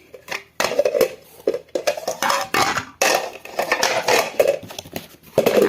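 Serving dishes and plates being handled, with close, loud clattering and clinking of crockery in uneven bursts separated by short pauses.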